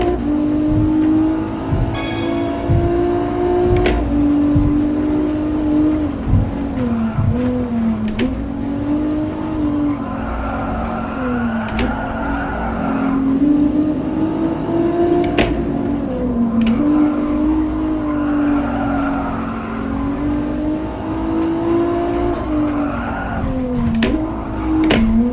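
Cars rolling through ordinary traffic in Gran Turismo Sport, a steady engine drone that rises and falls with shifts and throttle, with occasional sharp clicks and brief tyre noise, continuous and close with no talking.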